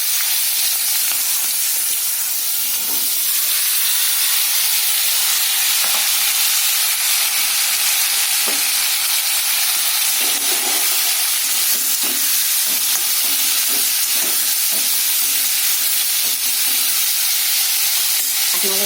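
Vegetables fry in hot oil with black cumin and a cut chilli in a home kitchen, giving a loud, dense, continuous sizzle and hiss with occasional stirring clatter throughout.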